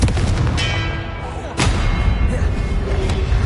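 The Confringo fire spell in Hogwarts Legacy bursts with a heavy thudding blast partway through, set amid rumbling game effects and ringing tones, with a voice calling out over the action.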